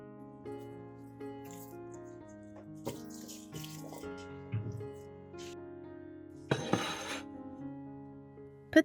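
Water poured into a large bowl of small, firm Vietnamese garlic cloves, splashing in short bursts with a clink or two, over a quiet musical background.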